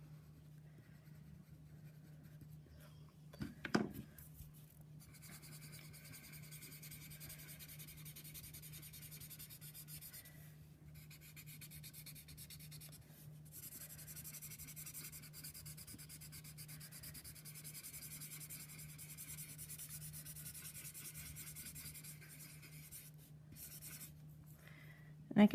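A shading pencil rubs lightly across paper in steady, continuous strokes, a faint, dry scratching that runs almost without pause, with a brief clatter early on.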